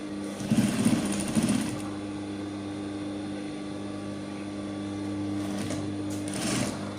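A sewing machine stitches a top in a home setting, a steady mechanical hum running throughout with louder bursts of rapid stitching at the start and near the end.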